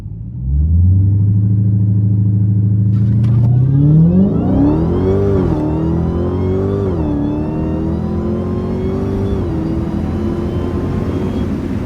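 An 800hp Dodge Hellcat pulls hard from inside the cabin, its engine note swelling from a deep idle-like drone into a loud, rising roar that climbs through the gears with brief dips at each shift.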